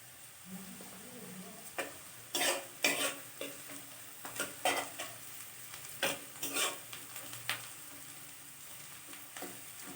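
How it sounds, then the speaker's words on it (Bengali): Chopped garlic and onions fry in a pan as a utensil stirs them, scraping and clattering in irregular bursts over a soft, steady sizzle close to the microphone. "পেঁয়াজটা ফ্রাই হয়ে গেলে আমরা কুচনো রসুনটা এর মধ্যে ছেড়ে দেবো"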